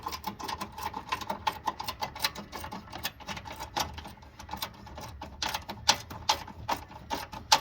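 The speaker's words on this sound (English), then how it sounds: "get your 10 millimeter and just torque this one up first" A 10 mm ratchet tightens a battery bolt on a Toyota RAV4, giving a quick run of close, crisp clicking that repeats with short pauses throughout.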